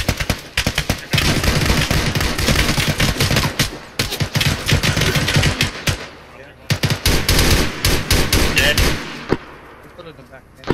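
Gunfire in a military video game: dense rapid bursts of shots crack close and loud in long strings, broken by short pauses, with a pistol among the weapons.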